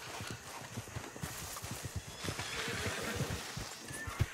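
Horse hooves clop in a steady galloping rhythm through a swampy setting in Red Dead Redemption 2, fairly faint and continuous with a background of ambient game noise.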